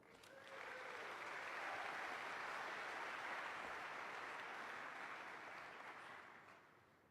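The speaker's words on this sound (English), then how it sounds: "Let's get a big round of applause for him." An audience at the DEF CON 24 conference applauds the speaker. Steady, moderately distant clapping from a large crowd rises quickly, holds for several seconds, then fades away.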